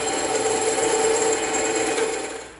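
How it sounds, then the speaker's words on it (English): A wooden dowel being cut at an angle to fit a prop build, giving a close, continuous rasping, sawing scrape that runs steadily before tapering off at the very end, with no talk. "we're gonna have to cut a little bit of an angle off of the dowel here so it fits"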